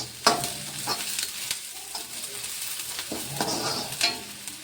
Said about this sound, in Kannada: ಈಗ ಎಣ್ಣೆಗೆ ನಾವು ಉಳ್ಳಾಗಡ್ಡಿ ಎಲ್ಲ ಚೆಂದಾಗಿ ಹಸಿಮೆಣಸಿನ್ಕಾಯಿ ಉಳ್ಳಾಗಡ್ಡಿ ಎಲ್ಲ ಚೆಂದಾಗಿ ಎಣ್ಣೆ ಫ್ರೈ ಆಗಬೇಕು